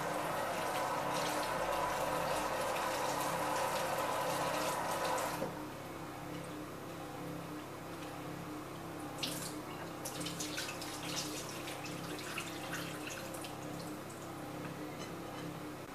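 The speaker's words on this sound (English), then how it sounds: "And give them a quick rinse of cold water." Cold tap water runs over mushrooms in a bowl as they are rinsed. A strong, steady rush of water fills the first few seconds, then settles into a softer trickle with faint splashes.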